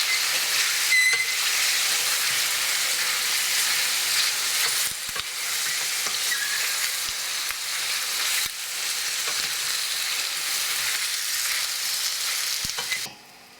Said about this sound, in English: Just keep stirring it, otherwise it sticks to the bottom.